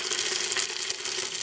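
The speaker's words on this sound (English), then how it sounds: "frying my tomato paste until it changes color" Steady, bright sizzling of paste frying in a pan, a continuous hiss with faint crackle throughout, close and fairly quiet.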